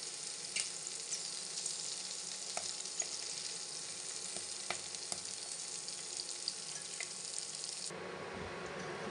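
Green peas fry in hot oil in a pan, a steady dense sizzle close by with small pops and crackles throughout, cutting off abruptly near the end.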